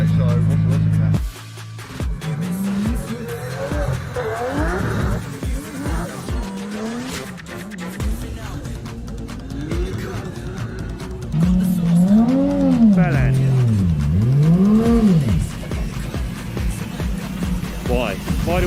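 Engines drone and tires squeal in rising and falling sweeps as cars drift at Snetterton circuit, with voices talking over the noise throughout.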